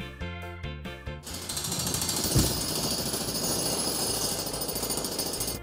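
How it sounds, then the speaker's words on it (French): Jackhammer pounding to break up asphalt, a rapid continuous hammering that starts abruptly after about a second of other sound and stays loud and steady to the end. "Oh, ça tape de haut en bas super vite pour casser le bitume."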